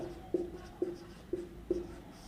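Four evenly spaced chalk or marker strokes on a classroom board during a chemistry lesson, each a short distinct tap-and-scrape, fairly close and alone without talk.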